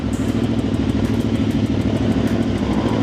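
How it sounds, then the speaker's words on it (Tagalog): QJMotor SRV600 four-cylinder cruiser motorcycle idling after its first start, a loud, steady, rumbling engine and exhaust drone close by, with no talk over it. "Ayun yung unang start ng motorcycle natin. Yung lakas ng exhaust niya, oh."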